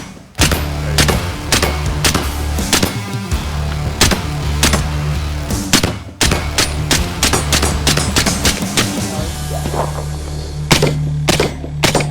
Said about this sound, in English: Let's fire a few more rounds, shall we?